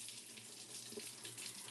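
Tap water runs steadily into a kitchen sink while a dirty pan is rinsed, a constant hissing splash with no voices over it.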